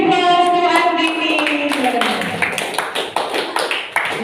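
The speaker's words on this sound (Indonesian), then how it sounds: "Give applause to Andini." A classroom of fourth-grade students claps for a classmate, with scattered, fairly loud hand claps mixed with children's voices and chatter throughout.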